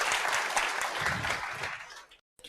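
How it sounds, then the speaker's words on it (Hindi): An audience at a gathering claps together in a dense burst of applause, close and moderately loud, fading out in about two seconds. "ताली बजाओ, देखें।"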